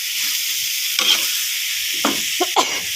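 Vegetables stir-frying in a pan for Thai basil shrimp, giving a steady bright sizzle throughout with several louder bursts of scraping and tossing as the pan is stirred; no one speaks.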